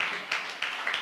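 A church congregation claps their hands together in a steady, fairly close round of applause, with brisk, even bursts of claps and a voice faintly present.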